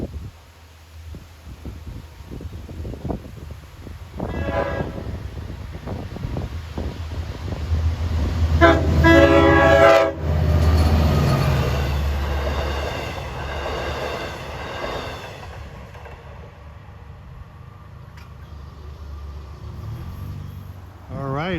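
Long Island Rail Road train 6066, led by diesel engine 420, approaches with a building rumble and a long horn blast mid-way, then fades as it passes, with a voice talking over parts of it.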